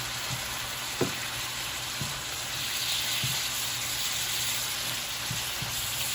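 Steak and shrimp frying in a pan give a steady close sizzling hiss, broken by a few soft knocks and scrapes from stirring or shifting the food, with no voices.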